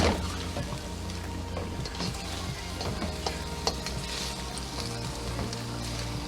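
Beef pepper steak stir-frying in a wok, a dense continuous sizzle with scraping and clattering of the spatula against the pan, close up with a faint low hum underneath.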